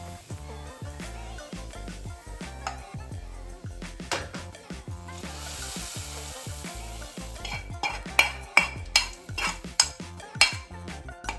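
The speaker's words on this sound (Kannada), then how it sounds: "ಇದಕ್ಕೀಗ ನಾವು ರೆಡಿ ಮಾಡಿರ್ತಕ್ಕಂಥ ಒಗ್ಗರಣೆಯನ್ನು ಹಾಕೊಳ್ತಾ ಇದ್ದೀವಿ" Prepared tempering poured into pomfret fish curry: steady sizzling and frying hiss with repeated scraping and clinking of a spoon stirring in the pan, close up, growing busier toward the end.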